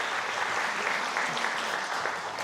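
An audience at an award ceremony for an independence movement plaque gives warm applause, a steady moderate clatter of many hands filling the room without pause.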